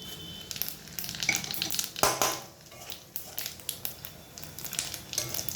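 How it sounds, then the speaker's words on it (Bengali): Whole cumin seeds tempering in hot oil with cinnamon sticks, cloves and bay leaves: a steady close sizzle with crackly pops, a sharp burst near the two-second mark, then continued frying patter. "আর দিয়ে দিচ্ছি ফোড়নে গোটা জিরে"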